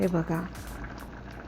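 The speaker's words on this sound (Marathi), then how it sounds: "मस्त सांबाराला उकळी आलेली आहे." Sambar comes to a boil in a pot, a soft steady bubbling that continues after a short stretch of talk at the start.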